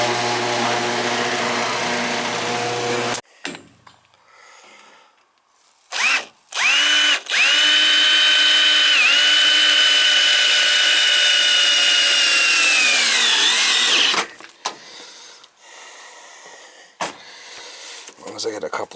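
A power drill drives screws during an oil boiler burner service, with a couple of brief bursts followed by one loud, sustained run of several seconds whose whine sags as it winds down.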